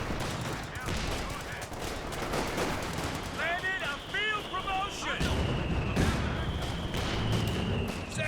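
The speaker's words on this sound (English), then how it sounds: "Now the mortars being turned against the machine guns of the Axis." Mortar blasts and machine-gun fire rattle and boom in a Company of Heroes 2 wartime battle, dense overlapping shots and explosions throughout, with a voice talking over the combat.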